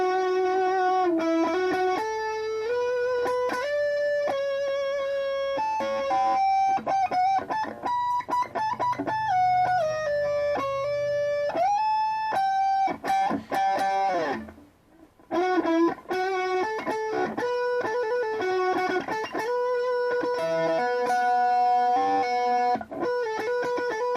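Electric guitar solo from a song, a sustained, bending lead melody with fast runs and one brief pause midway, played alone at steady volume.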